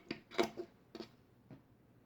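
Scissors snip through a sock in several short, crisp cuts, three or four distinct snips spaced unevenly and close by, with quiet pauses between them.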